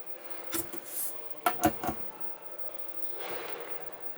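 Spring-loaded freezer drawers in a luxury motorhome slide and bump shut with a couple of soft knocks, then another short slide and clunk, quiet and close by.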